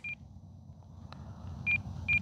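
Three short, clear electronic beeps from an RC transmitter alarm, set up for an E-flite Draco 2.0 m plane, evenly spaced over a quiet background.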